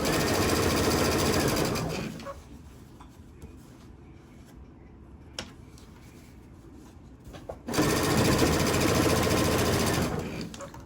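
A sewing machine stitches T-shirt quilt blocks with a steady, fast mechanical whir, running for about two seconds, pausing for several seconds of quiet handling, then starting up again loud and close.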